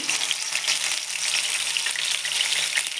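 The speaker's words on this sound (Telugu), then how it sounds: "కలర్ చేంజ్ అయ్యే వరకు వేయించుకున్నాము" A crushed medium onion sizzles in oil in a pan over a low flame while cooking a spicy chicken curry, a steady close-up hiss with faint crackles and no talk.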